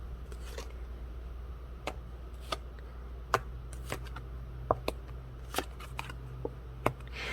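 Tarot cards are handled and drawn in a quiet room, giving soft, scattered clicks, flicks and taps at irregular intervals over faint background hiss.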